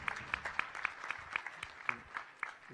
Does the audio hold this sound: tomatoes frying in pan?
no